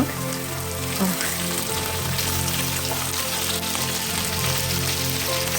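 Mushrooms sizzle in a hot frying pan, a dense, continuous crackle and spatter at close range that holds steady throughout, with no talking over it.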